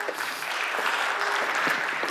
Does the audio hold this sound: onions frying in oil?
no